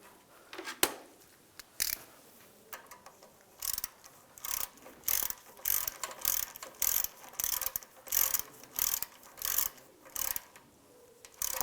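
A hand ratchet tightening a bolt on the A/C condenser of a 1999-2005 Volkswagen Jetta, with steady rhythmic clicking strokes repeated about a dozen times, close and alone.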